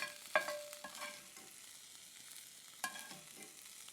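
Peppers sizzle in olive or avocado oil in a hot pan, a steady soft frying hiss with a couple of louder scraping stirs near the start and again later.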